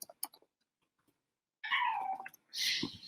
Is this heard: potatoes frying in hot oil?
no